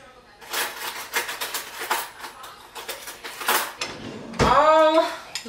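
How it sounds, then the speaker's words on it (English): An ice cream scooper and a spoon scrape and knock through cookie dough in a bowl, making a run of close scraping strokes and dull clacks, ending with a brief squeaky tone. "I'm gonna use this ice cream scooper and a spoon."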